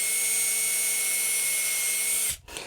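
A power drill boring a screw hole to mount a neck pickup on a Telecaster-style guitar build: a steady high whine runs close and loud for about two seconds, then cuts off abruptly.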